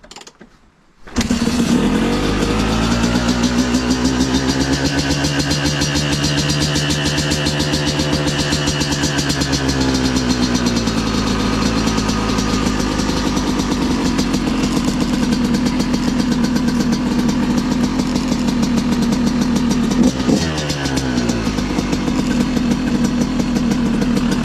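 A KTM 200 EXC two-stroke supermoto starts up and settles into a loud, close idle with a raspy, uneven putter, pitch sagging and recovering, with a brief blip of revs near the end.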